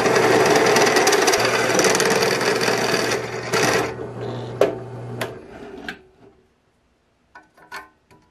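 A drill press bores through metal with a unibit step bit, a loud steady grinding whir for about five seconds, then the motor winds down, followed by a few sharp clanks and taps of metal parts.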